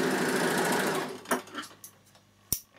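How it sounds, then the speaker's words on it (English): Bernina L450 overlocker stitching over a short thread tail, a loud close whirring burst of about one second that stops, followed by a few light mechanical clicks. "we're going to sew over this little tail"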